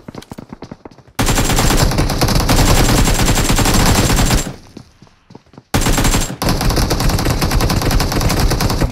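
Rapid automatic gunfire from the battle royale mobile game BGMI during a squad fight, loud sustained bursts with a short lull in the middle before firing resumes, no talking.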